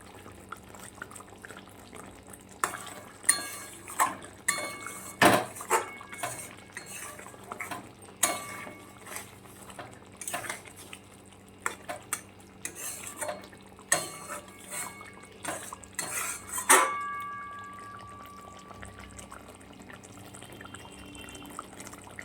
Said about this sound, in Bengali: হালকা করে নেড়ে দেবো একবার।